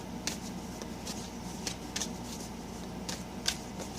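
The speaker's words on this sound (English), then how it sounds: "I'm not going to accept them all, but put them back into the general to shuffle" Tarot cards shuffled by hand in soft, irregular riffling bursts, quiet and close over a steady low background hum.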